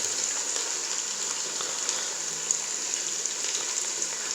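Onions sizzle steadily in hot oil in a pan as they start to brown, a soft continuous crackling hiss at a low, even level with no talking.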